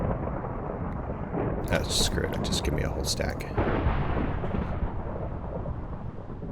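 Thunder from a thunderstorm in the video game Minecraft rolls as a continuous loud rumble with rain-like hiss, while a person talks briefly over it.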